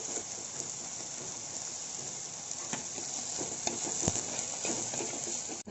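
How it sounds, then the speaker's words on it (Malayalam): Chopped onions sautéing with a pinch of salt in a pan for a dried tuna fish curry, giving a steady close sizzle and hiss with occasional stirring scrapes throughout, no talking. "നമ്മുടെ സവാള പെട്ടെന്ന് വഴണ്ടു വരാൻ നമുക്ക് നുള്ള് ഉപ്പിട്ട് കൊടുക്കാം"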